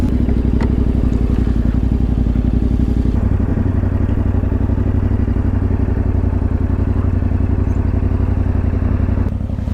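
A motorcycle rolls slowly around a campsite, its engine a steady, loud, close low-pitched chugging throb with some clatter, and no voices over it.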